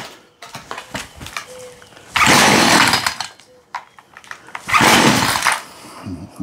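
A Husqvarna 142 chainsaw engine just fitted with a new carburetor, revving loudly in two bursts with rough, uneven idling and sputtering in between, heard up close.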